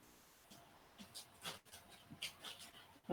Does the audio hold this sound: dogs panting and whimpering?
yes